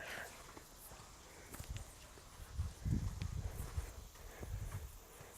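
Horse hooves walking on soft ground during a groundwork training session, muffled irregular footfalls close by over a low background rumble.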